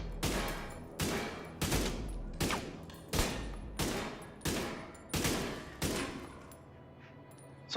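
Eight evenly spaced, punchy rifle shots ring out in The Division 2 video game, each blast trailing off in a short echo before the next, with no voices.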